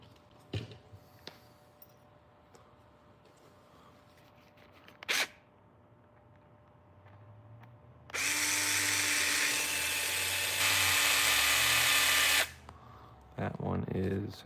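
An electric screwdriver drives screws on a Traxxas Sledge RC truck in a steady buzzing burst of about four seconds, then a shorter final burst, with soft handling clicks before and between.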